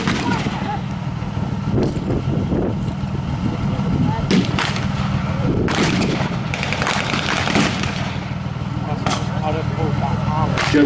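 Heavy gunfire and booming artillery at an outdoor World War Two battle reenactment, with British soldiers advancing on a German position; sharp reports and blasts come near and far under a commentator's voice.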